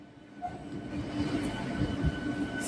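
A MEMU passenger train runs along the track with a continuous rolling rumble and light rattling clatter, steady and fairly close, with no talking.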